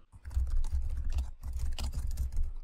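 Rapid typing on a computer keyboard, close and clear, a quick irregular patter of key clacks with a brief pause midway.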